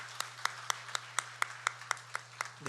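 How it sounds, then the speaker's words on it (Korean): Rhythmic clapping in a church congregation welcoming a newly registered elderly member, about a dozen even, crisp claps at a steady pace over a low steady hum, with no talking. "우리 축복의 박수하도록 하겠습니다"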